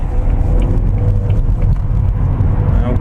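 A 2016 Volvo V40 Inscription D2 diesel hatchback accelerates on the road, heard from inside as a loud, steady engine drone with heavy low rumble and whirring road noise.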